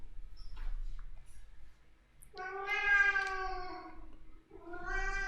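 A house cat meows in two long, drawn-out calls, the second cut short, close to the microphone in a quiet indoor room with faint background noise and no talk.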